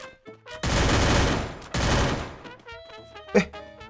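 Gunfire in the video game Free Fire comes as two loud, sustained bursts of rapid shots separated by a short gap. A single sharp pop follows, set among tonal game effects.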